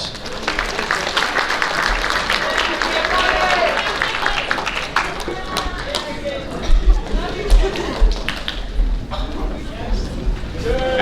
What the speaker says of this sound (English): Let's give our golf teams another round of applause.